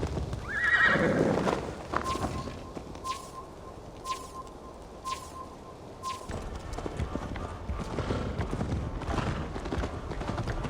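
A horse whinnies loudly near the start, followed by rhythmic hoofbeats in Assassin's Creed Valhalla, with the galloping continuing under ambient game sound.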